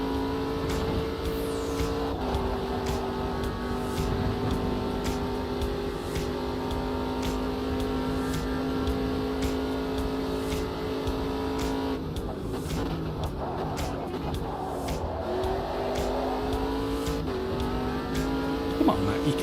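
Racing cars in a sim racing video game hold a steady engine drone, with the revs shifting on the throttle and a brief dip midway, under some faint background voice.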